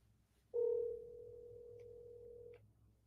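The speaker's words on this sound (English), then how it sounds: "Let's just get John on the phone" A steady telephone dial tone sounds for about two seconds as a call is placed during a sports talk show, clear and alone over faint background hum before cutting off.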